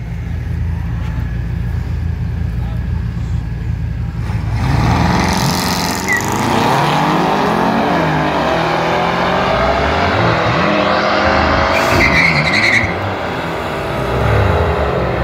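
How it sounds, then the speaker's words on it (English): Audi RS7 with full bolt-on mods drag racing an F10 BMW M5: steady engine drone, then from about four seconds a loud, rising roar of hard acceleration with shifting engine tones, heard alone without speech. "RS7 full bolt on versus an M5."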